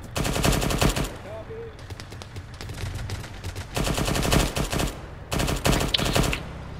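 Bursts of automatic gunfire in a video game crackle in loud, rapid volleys separated by short pauses, with a brief quieter stretch in the middle.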